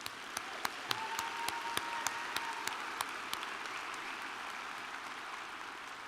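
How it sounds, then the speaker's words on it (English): At a university business-school commencement, an audience claps for parents and grandparents: distinct, evenly spaced claps stand out at first, then thin into a softer, more diffuse patter under a steady hum. "let's give mom and dad and grandparents a round of applause"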